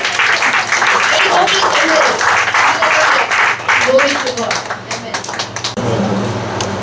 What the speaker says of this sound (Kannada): ನಾವು ಎಲ್ಲರೂ ಜೋರಾದ ರೀತಿಯಲ್ಲಿ ಕರ್ತನಿಗೆ ಚಪ್ಪಾಳೆಯನ್ನು ತಟ್ಟದ